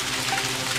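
Steady, dense hiss of rain falling in the Ghost Master video game, an even wash of sound with no distinct drops standing out, holding constant from start to finish.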